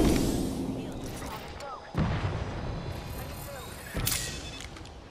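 Frag grenade explosions in the video game Apex Legends, two heavy booms a couple of seconds apart over a constant din of game noise.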